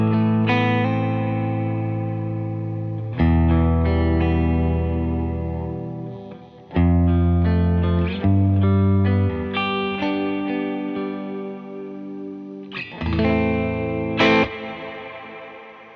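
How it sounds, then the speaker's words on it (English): Electric guitar played through an ambient reverb preset on a Golden-labelled effects pedal on a large worship pedalboard, ringing sustained chords and notes that bloom into long, shimmering, chorus-like tails, loud and close with no talking. "This is your preset on the golden. This is like an ambient type of a reverb."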